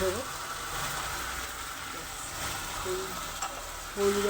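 Dhokar dalna sautéing in a pan, giving a steady, moderately loud sizzle with occasional stirring scrapes and brief faint voice fragments.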